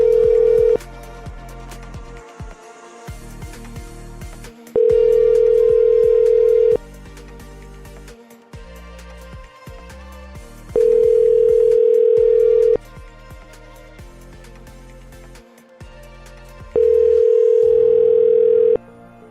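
An outgoing telephone call rings out with a steady ringback tone in four evenly spaced bursts of about two seconds, separated by longer gaps, over continuous background music.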